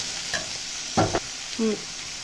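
Vegetables and beans sautéing in a pan for schezwan fried rice, a steady soft sizzle with a few brief scrapes of a spatula stirring, close and unaccompanied by talk.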